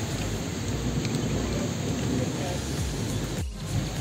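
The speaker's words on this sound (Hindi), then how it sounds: "बारिश तो मूसलाधार होने लगी।" Heavy torrential monsoon rain pours steadily and loudly close by, with rumbling thunder mixed into the dense downpour throughout.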